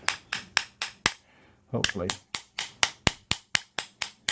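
Sharp metallic hammer taps ring out at a steady rhythm as a part is knocked out of a Honda ATC front brake assembly in a workshop, with a brief spoken word breaking the sequence midway.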